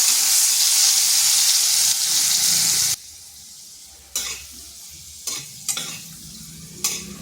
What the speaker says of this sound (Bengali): এরপর ওই তেলের মধ্যে দিয়ে দিচ্ছি একটা মিডিয়াম সাইজের আলু। আলুটাকে নুন হলুদ মাখিয়ে রেখেছিলাম, এবার আলুটাকে হালকা ভেজে নেব।